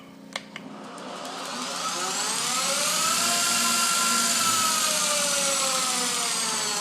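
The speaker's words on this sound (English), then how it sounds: "When I want to get the spindle spinning," A converted surface grinder spindle whirs up from rest, its whine rising steadily in pitch over a few seconds and then holding a loud, even tone, after a couple of small clicks at the start.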